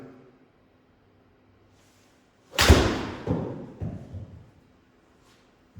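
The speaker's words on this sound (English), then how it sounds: "as I strike the toe end of the club" A golf club strikes the ball off the toe with one sharp, loud thud, and a short rustling tail fades behind it in otherwise quiet surroundings.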